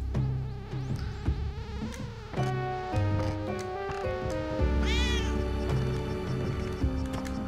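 Sound effects from the video game Spelunky 2, with a cat character meowing amid busy game music and chiming effects, shrill cries and warbling tones layered throughout.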